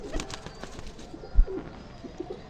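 Young pigeons kept as a hobby give soft, low coos in short bursts close by, with a brief louder thump midway and faint bird rustling in the background.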